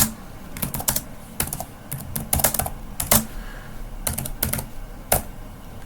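Rapid bursts of clicky key presses on a computer keyboard while coding, with irregular clusters of taps and short pauses, close and crisp with no talking.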